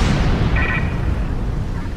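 Starship weapons fire in Star Trek Online, a dense sustained roar of bursts and booms with a brief whining tone partway through, loud and continuous across the whole moment.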